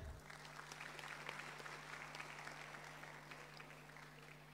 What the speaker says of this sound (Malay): Satu tepukan kepada YB.